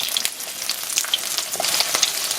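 Oyster pancakes coated in egg frying in a pan, with a bright, steady sizzle and small pops close by. There is no talking.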